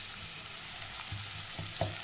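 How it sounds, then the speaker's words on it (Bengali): Green chili paste and a spice paste for a Bengali tangra fish curry frying in a pan, with a steady close sizzle and occasional scraping stirs of the spatula, no voices. "দিয়ে এবার মশলাটা খুব ভালো করে কষিয়ে নেব।"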